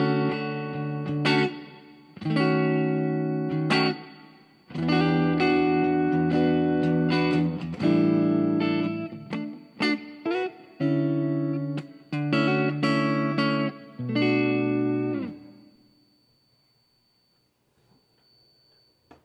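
An electric guitar plays a clean tone through a Tank G effects unit, strumming chords in several separate phrases with short gaps between them. The last chord rings out and fades to near silence.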